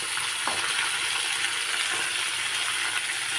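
Tomatoes fry in a pan with onions and green chillies for sambar, making a continuous close sizzle and hiss with faint crackles and one light tap near the start.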